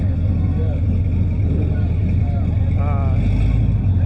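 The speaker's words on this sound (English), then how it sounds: "This is a truck towing a truck." A truck towing another truck rolls by in an evening Christmas parade, a steady low engine rumble and road noise filling the scene while people talk nearby.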